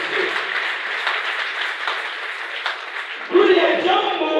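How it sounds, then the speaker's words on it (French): A church congregation at an evangelical service applauding the Lord, a broad wash of clapping that keeps up steadily and swells louder near the end, with a voice speaking over it. "aide-moi à acclamer le Seigneur très fort."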